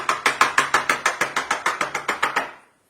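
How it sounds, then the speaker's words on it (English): Chocolate mold filled with vegan Swiss chocolate being tapped against a surface, about fifteen sharp, evenly spaced knocks in a quick steady rhythm, close and loud, ending in quiet. "So we have our first mold filled, and tap again"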